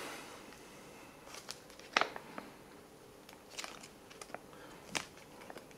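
Crunchy, very dense biscuits from a German army EPA Type III combat ration being bitten and chewed up close, giving a few sharp crunches and crackles over a quiet background.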